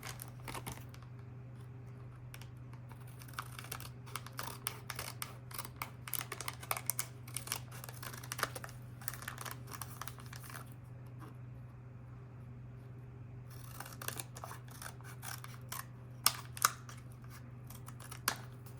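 Scissors snip out paper pieces for a junk journal, a steady run of small, close, crisp cuts with brief pauses, over a low constant hum and no talking.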